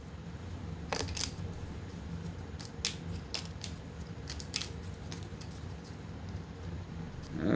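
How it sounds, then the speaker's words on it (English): Action cards for the Harvest board game are shuffled by hand in a quiet room, giving repeated crisp riffling snaps and soft paper shuffles in irregular bursts, close and fairly faint. "Let's shuffle up Gary's actions."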